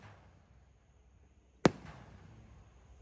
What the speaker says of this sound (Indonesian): Ini roket terbesar, roket Mars Jumbo, guys.